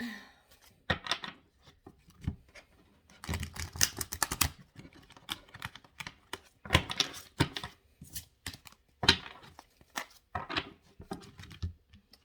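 Slippery tarot cards are shuffled by hand in a quiet room, giving irregular bursts of crisp papery riffles and taps with short pauses between them.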